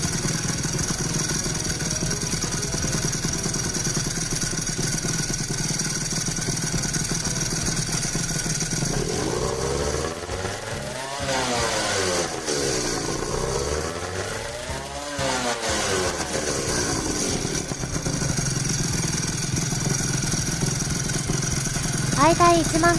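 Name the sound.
Honda NSR250R motorcycle two-stroke exhaust with Jha chamber revving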